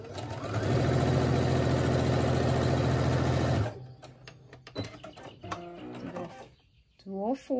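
A Brother SE1900 sewing machine stitches a face mask in a loud, rapid, steady whir for about three seconds, then stops, followed by softer handling clicks and brief talk.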